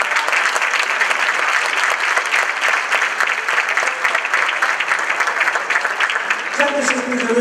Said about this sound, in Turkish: Alkışlarınızla, güzel alkışlarınızla.